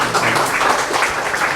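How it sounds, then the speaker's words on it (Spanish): Applause rises from the audience at a book presentation in a university setting, a brief, dense wash of many hands clapping at moderate loudness. "quisiera que podamos darles a ellos un fuerte aplauso"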